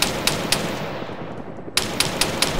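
Bursts of rapid machine gun fire in Arma 3 with a noisy, hissing battle background; shots crack in a quick rhythm, pause briefly, then resume.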